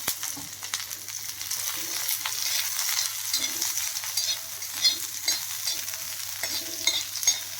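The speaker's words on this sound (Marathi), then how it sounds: "थोडंसं तेल टाकून। आणि ओला एक कांदा घेतला, तो ह्या तव्यामध्ये भाजून घेणार आहे।" A fresh onion roasts in a little oil on a griddle while mutton sukka is being prepared, giving a soft steady sizzle with light stirring scrapes and no talking.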